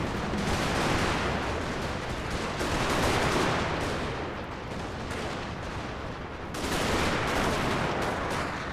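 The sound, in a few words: musket volley fire in Total War battle video game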